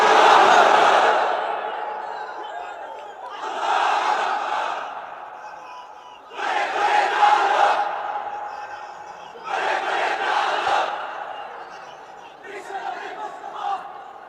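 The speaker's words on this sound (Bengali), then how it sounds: "হ্যাঁ, তাকবীর পড়েন তো দেখি।" A large crowd at an Islamic religious gathering answers in unison with loud takbir chants, several bursts of massed voices rising and falling with short pauses between them.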